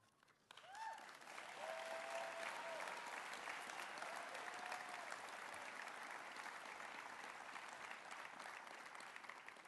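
Steady applause from a graduation ceremony audience, a dense wash of clapping that starts abruptly and holds at an even level throughout, with a few faint tones near the start.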